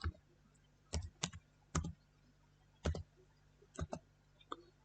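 A COUNTIF formula being typed on a computer keyboard in a quiet room, with sparse, close, crisp key clicks, about eight spaced presses.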